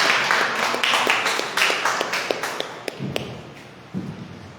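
A church congregation applauding during worship, dense clapping that fades gradually with a few louder taps and thumps near the end.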